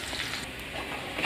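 Onion paste with ginger, cumin, green chilli, garlic and red chilli powder fries in a pan for a fish curry, a continuous close, even sizzle with no talking.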